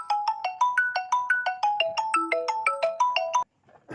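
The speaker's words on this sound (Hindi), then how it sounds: "देखिए साथियों, 2 बार फ़ोन आ चुका है, जिसकी वजह से, है ना, बाधा तो हुई है।" A phone ringtone plays during a Hindi literature lecture, a fast run of bright melodic electronic notes that repeats for about three and a half seconds, clear and fairly loud with no talking over it.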